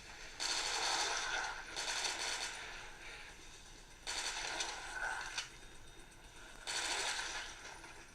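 Machine gun fire in a first-person shooter video game, four separate bursts of rapid crackling shots with quieter gaps between them, moderately loud and continuous within each burst.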